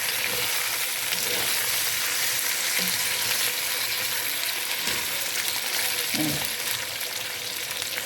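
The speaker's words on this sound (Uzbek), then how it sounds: "Endi hammasini birgalikda qovuramiz." Steady, dense sizzling of bone-in meat frying in a hot pan, continuous throughout with a few faint clinks and stirring knocks.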